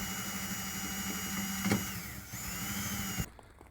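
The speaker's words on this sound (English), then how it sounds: "these are just wood screws that tack straight into the metal" A power driver drives wood screws into the metal rear hatch of a 1994 Subaru Legacy Turbo wagon: a steady close whine for about three seconds that then cuts off.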